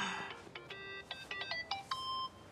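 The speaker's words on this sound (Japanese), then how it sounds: "電話か" A phone ringtone from the video game Yakuza 8 plays clearly and alone, a quick melodic series of bright electronic beeps in a rising and falling pattern.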